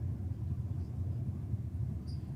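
A Monaro drag car with a big turbo and large rear slicks sends a steady, distant low engine rumble across Sydney Dragway, heard alone without any talk.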